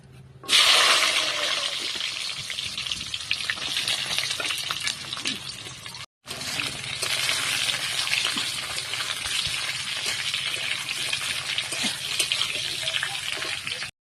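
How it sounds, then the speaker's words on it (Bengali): Bitter gourd dropped into hot oil, a sudden loud burst of frying that settles into a steady, close hissing sizzle with faint crackles, briefly cut off once before carrying on. "করলাটা ভাজবো, তেল দিলাম, দিয়ে দেবো করলাটা।"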